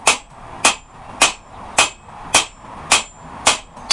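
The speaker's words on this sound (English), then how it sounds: "It seems to be giving me a really good response under the hammer." A hammer strikes a Harbor Freight Doyle anvil in loud, ringing blows, seven clanging hits in an even, steady rhythm about two per second, close and alone.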